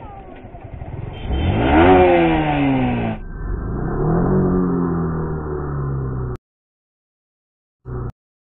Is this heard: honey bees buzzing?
no